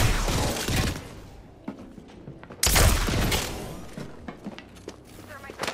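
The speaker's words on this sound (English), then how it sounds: "I'm taking shots. Opening fire." Gunfire in the video game Apex Legends, heavy broadband bursts of shots near the start and again around the midpoint, with scattered softer impacts and footsteps between, loud and close.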